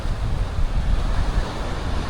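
Ocean surf at a Playacar beach in Playa del Carmen makes a steady, dense roar, with wind buffeting the microphone throughout.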